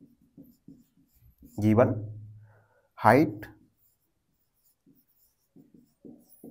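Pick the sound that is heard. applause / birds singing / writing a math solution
writing a math solution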